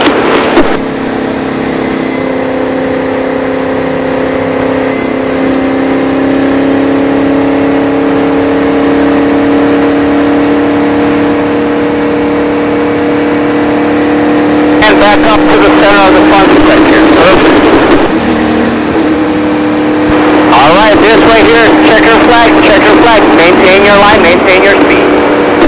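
Indy Lights race car engine held at full throttle at Las Vegas Motor Speedway, a steady loud high-pitched drone with rising harmonics, joined by radio chatter mid-clip and again near the end.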